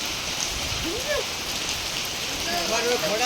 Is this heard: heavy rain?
yes